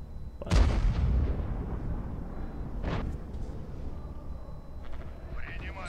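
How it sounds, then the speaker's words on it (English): Artillery fire in the World War II strategy game Order of War: a heavy boom opens with a long rumbling tail, then a second sharper blast, with a voice speaking over the end. "Nothing wrong with having multiple artillery guns."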